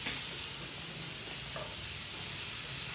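Shrimp frying in oil and flour give off a steady, close broadband sizzle that keeps an even level from start to finish, with no one talking.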